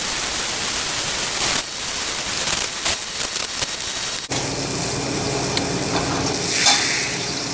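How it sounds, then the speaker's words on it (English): Apple juice glaze simmers and boils in a pan after the bottom has been scraped, giving a steady loud sizzling hiss throughout with a few scraping stirs in the first half. "scrape the bottom of the pan and let that simmer and boil until you have a nice glaze"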